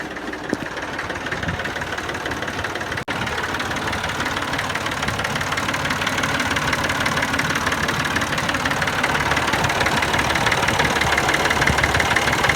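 A tractor engine with a newly fixed fan belt idles steadily and close by, a continuous low rumbling chug with no talking.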